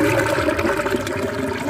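Water rushing and gurgling steadily down a channel into a homemade cow-dung biogas digester, close and fairly loud, continuous for a short moment.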